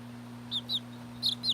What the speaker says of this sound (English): This is my lavender Wyandotte.